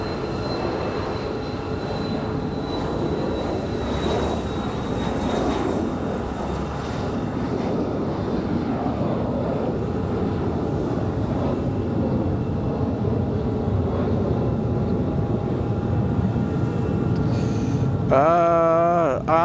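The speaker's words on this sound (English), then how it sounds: "Air France, that 777 from Paris." An Air France Boeing 777 jet airliner from Paris arrives at Raleigh-Durham International Airport, its loud, steady engine roar filling the whole stretch and rising into a sweeping whine near the end.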